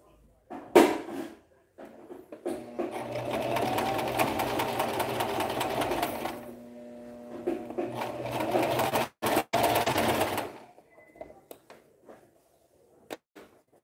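A sewing machine stitches close to the seam allowance on a garment in two long runs of whirring, rattling motor sound, separated by a pause. Short clunks and handling noises follow, and there is no talk.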